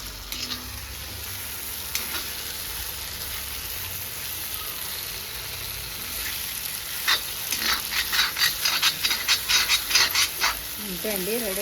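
Onions sizzle and fry in a pan for Andhra-style tomato dal, a steady crackling hiss that grows into bursts of stirring and spattering toward the end, with a brief dog-like sound at the close.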